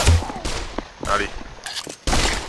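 Rifle shots in Pavlov VR, fired in quick bursts: several sharp, loud cracks spread over a few seconds with short gaps between them. Speech can be heard in the background.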